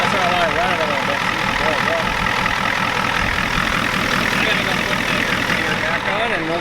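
A 1993 Ford F-250 with a 7.3 IDI diesel and a turned-up injection pump runs steadily nearby, a continuous low rumbling clatter throughout, with voices talking over it.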